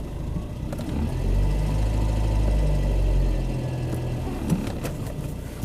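A Skoda Favorit's engine runs steadily at moderate volume, swelling slightly as the car pulls away, with a low rumbling hum throughout and no talking.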